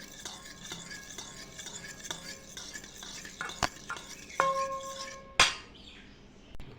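Spice masala being stirred into yogurt in a bowl, heard as quiet rhythmic scraping with sharp spoon clinks against the rim, growing louder toward the end before fading.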